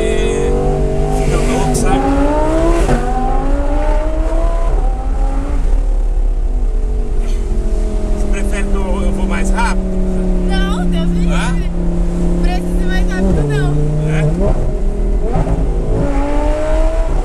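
An Audi R8 sports car drives with its engine steady and rising in rapid acceleration surges, loud and close from inside the cabin, while people talk over it throughout.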